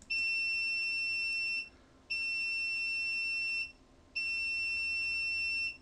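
An Arduino-controlled electronic buzzer sounds a steady high beep for about a second and a half, stops briefly, and repeats three times in an even on-off rhythm.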